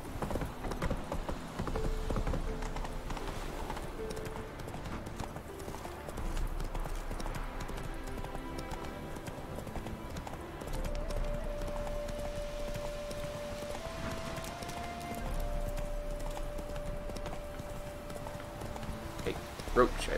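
Roach, the horse in The Witcher 3, gallops with a steady rhythmic clip-clop of hooves, close and prominent, under a game music bed and a talking voice.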